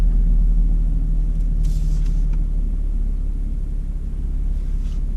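Kia Stinger pulling away in drive, a steady loud low engine and road rumble heard from inside the car, holding even throughout with no voices.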